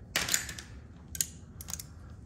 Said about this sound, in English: I'm just using a 13 mil ratcheting wrench, loosen that up